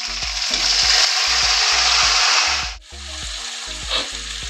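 Onions sizzle loudly in a pan with chili powder, ginger-garlic paste and tomatoes for chicken biryani. The frying is close and steady, and a spoon scrapes and stirs in a repeated rhythm throughout, with no talking.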